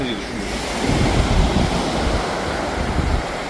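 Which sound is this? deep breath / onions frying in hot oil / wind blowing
wind blowing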